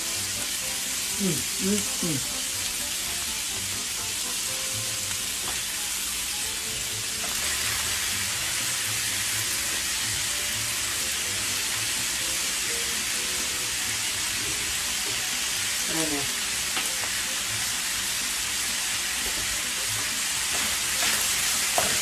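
Ground beef and pancetta frying in a pan for Bolognese sauce, with a steady close sizzle and occasional scraping as the meat is broken up; a voice speaks briefly at moments.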